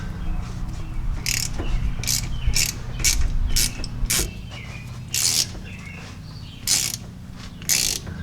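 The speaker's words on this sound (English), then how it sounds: "I'm just going to take an 8mm and loosen these up" Ratchet turning an 8mm six-point socket to loosen U-joint strap bolts on a vehicle, giving bursts of quick clicking, several short runs spread across the stretch, over a low steady background hum.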